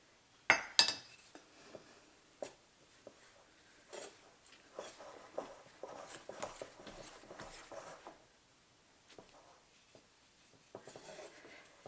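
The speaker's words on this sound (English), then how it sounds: "it's starting to get really hard to mix, even with this dough whisk" A dough whisk stirs stiff sourdough bread dough in a bowl, giving sparse scraping and clinking taps, a couple of sharp knocks early, then softer irregular scrapes close by.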